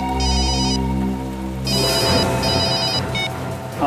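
An incoming call's phone ringtone plays loud and close, a bright repeating melodic tone over a low hum, then continuing under busier background noise.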